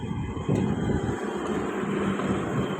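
Steady wind gusting into the microphone, a loud continuous rumble and hiss with no voices.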